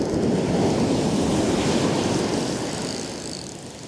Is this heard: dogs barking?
no